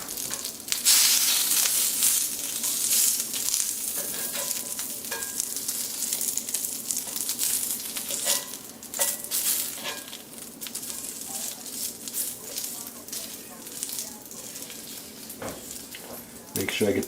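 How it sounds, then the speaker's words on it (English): Eggs frying in bacon grease on a cast iron griddle, a steady close hiss and crackle of sizzling fat with faint clicks throughout, a voice talking intermittently over it. "and then we'll go ahead and put the eggs in"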